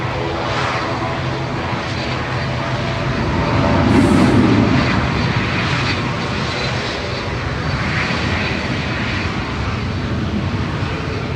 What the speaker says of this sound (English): Right now, departing to Dublin, flight 555 EVM